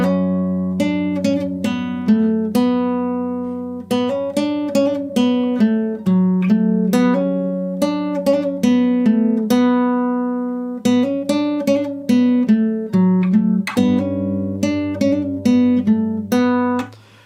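A guitar in standard tuning plays the opening line of the Assassin's Creed Valhalla main theme slowly, with clear plucked notes and ringing open strings in an even, deliberate rhythm, solo and close.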